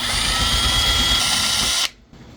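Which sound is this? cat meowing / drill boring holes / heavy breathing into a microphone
drill boring holes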